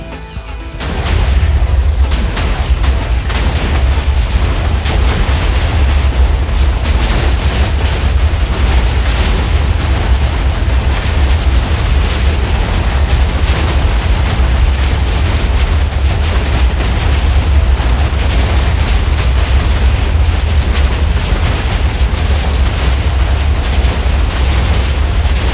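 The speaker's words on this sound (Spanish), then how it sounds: "vamos a ver las dos explosiones a la vez." Continuous heavy booming and rumbling video game explosions, rendered on an MSI AMD Radeon RX 6500 XT graphics card, roar loudly without pause, a dense wall of blasts and crackling debris throughout.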